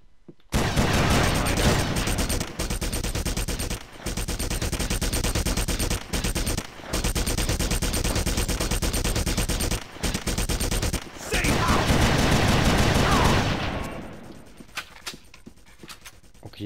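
Sustained dense gunfire in the video game Red Faction, like rapid automatic bursts, loud and continuous with a few short gaps before fading near the end.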